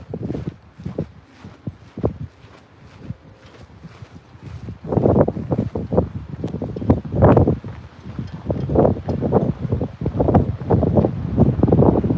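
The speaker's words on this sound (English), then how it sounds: "Definitely a windy day today, that's for sure." Gusty wind buffets the microphone in uneven, rumbling bursts, mixed with footsteps and rustling outdoors among aircraft displayed outside an Air Force museum.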